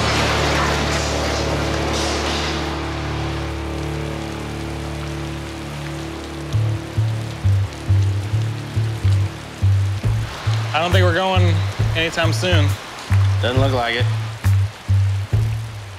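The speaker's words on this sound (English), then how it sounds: "Shit, it's raining." Steady rain patters and hisses throughout at an outdoor car restoration shop, with people talking over it and a rhythmic mechanical thumping in the background.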